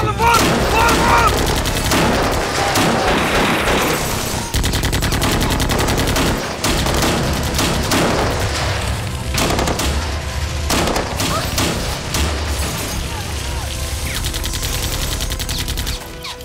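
Heavy, continuous gunfire during a raid: rapid automatic bursts and overlapping shots, loud and close throughout, with voices shouting underneath.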